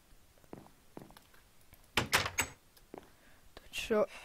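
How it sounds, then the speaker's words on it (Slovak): Knocking on a door: a few faint taps, then a cluster of sharp, fairly loud raps near the middle and another knock toward the end, with quiet background sounds between. "Niekto klopal na dvere."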